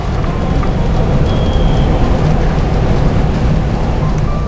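Rain falls steadily outdoors near a seating area, a continuous broadband hiss that stays loud and even throughout, with no talking.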